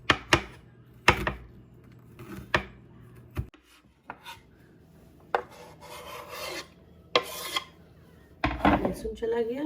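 Garlic cloves chopped with a knife on a cutting board while cooking a vegetable tawa fry, giving sharp, close knocks in irregular bursts with short pauses and light scraping between them.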